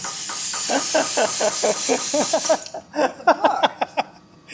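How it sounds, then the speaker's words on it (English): A loud, steady hiss of spray inside the tyres of a 900 hp Volvo runs for a couple of seconds and then cuts off, with people talking over it and continuing after. "you get all this sort of spray actually inside the tyres"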